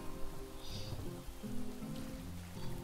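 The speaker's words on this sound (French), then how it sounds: "Voilà, il pleut, ça se remplit." Rain falls steadily in the video game Craft The World, a soft continuous patter heard faintly beneath quiet game music tones.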